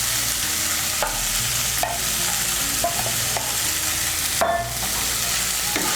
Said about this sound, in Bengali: আলুটাকে মিশিয়ে নেব